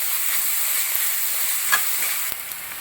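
Shallots stirred and frying in hot oil for an Achayan-style prawn roast, a steady close sizzle with soft scraping stirs and a couple of brief clinks, no voices.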